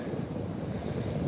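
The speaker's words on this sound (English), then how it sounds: "Enjoy the sound of the waves." Ocean waves wash onto a sandy beach in a steady, broad hiss of surf mixed with wind buffeting the microphone, continuous and fairly soft with no voices.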